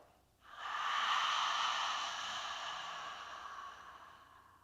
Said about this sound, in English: on exhalation, you're going to open the mouth and make the sound that you make when you're going to fog up a mirror